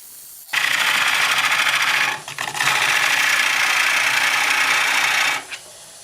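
A half-inch bowl gouge cuts into an oak bowl turned from firewood on a lathe, producing a loud, steady rasping hiss with a brief dip partway through before the cut resumes.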